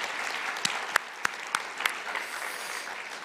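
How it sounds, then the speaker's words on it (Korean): A church congregation at a Lunar New Year worship service gives a welcome round of clapping, fairly faint and steady with a few sharper nearby claps standing out. "일어나서 인사하실 때 큰 환영의 박수를 부탁드립니다."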